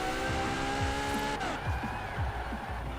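The Apollo IE supercar in Forza Horizon 4 holds a steady, loud engine drone with rhythmic low pulses and a pitch shift partway through, with no voices over it.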